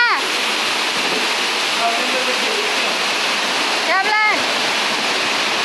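Strong waterfall at the cascades of Cuyutlán, San Cristóbal de la Barranca, Jalisco, a loud steady roar of falling water throughout, with people talking and calling out over it.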